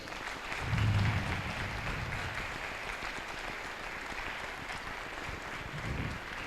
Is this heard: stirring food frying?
no